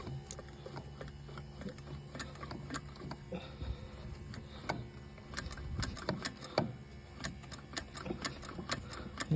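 A 1973 Mercedes 280C electric fuel pump runs with a steady faint hum and rapid ticking clicks, under sparse irregular taps and knocks from close by.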